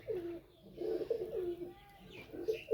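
A female pigeon gives soft, low repeated coos in a quiet close-up, a few rounded throaty calls with brief pauses between them.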